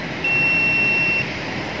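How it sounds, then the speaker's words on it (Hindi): A driver anti-sleep alarm device fitted above the driving seat of a heavy vehicle emits a single steady high-pitched beep lasting about a second, loud and clear over low cabin hum. "अब जैसे ही मेरा सर नींद की वजह से झुकेगा, अलार्म बज पड़ेगा।"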